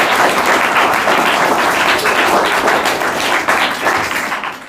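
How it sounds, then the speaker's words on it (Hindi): Loud, dense applause from a student quiz show audience, sustained throughout before thinning slightly at the end. "जोरदार तालियां होना इनके लिए।"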